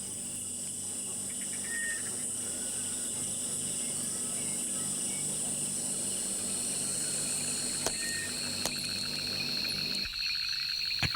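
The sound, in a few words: tree frog calling at night in Kruger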